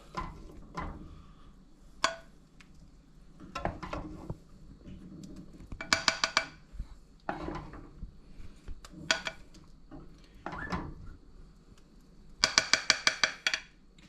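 Serving spoon scraping and clinking against a cast iron skillet and bowl while dishing out Cajun shrimp and grits, with scattered bursts of metallic clatter and a few sharp ringing clinks between quieter pauses, close up.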